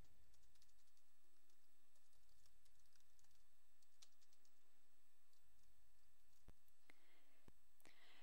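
Keys on a computer keyboard being typed on, heard as faint, sparse clicks over a quiet background, with a few sharper taps clustered near the end.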